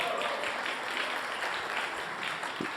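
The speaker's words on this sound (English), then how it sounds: "applause for Vicente" Applause at a first-anniversary celebration, a steady wash of clapping filling the whole stretch at even strength, crowd-sized and continuous with no voices rising above it.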